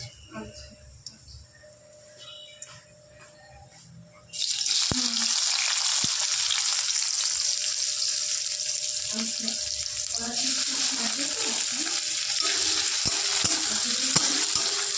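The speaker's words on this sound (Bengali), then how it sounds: "এবার ওর মধ্যে দিয়ে দেবে কিছুটা চেরা পেঁয়াজ।" Sliced onions hit hot oil seasoned with Bengali five-spice, in the same oil just used for frying bhendi fish; a sudden loud, close sizzle bursts in and continues steadily with faint stirring clicks.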